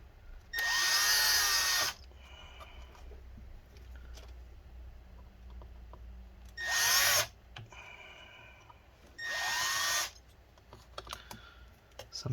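A power drill boring into an Acer Aspire A717-72G laptop runs in three bursts of a high whine, near and loud, with quiet clicks and handling noise in the gaps and no talk.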